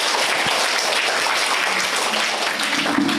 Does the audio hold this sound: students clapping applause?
yes